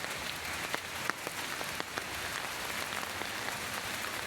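Steady rain falling outdoors, a constant dense hiss with scattered sharper drops and taps throughout, moderately loud and without speech.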